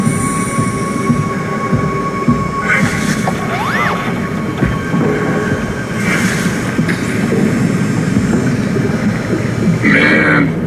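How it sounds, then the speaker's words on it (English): A shuttle train in SOMA rumbles steadily along its track with a constant grinding roar, broken by occasional metallic squeals and clanks, and no voices. "Not sure I trust the shuttle train anymore."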